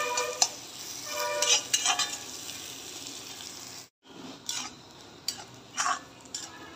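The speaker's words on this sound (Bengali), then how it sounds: "তো এখন পেঁয়াজ আর দারচিনি এলাচগুলো আমি দিয়ে দিব। তো এটা বাদামি কালার করে নিব পেঁয়াজগুলি।" Onions with cinnamon and cardamom frying in a pan for a beef tripe dish, a steady close sizzle with intermittent stirring scrapes and clinks, broken by a brief silent gap.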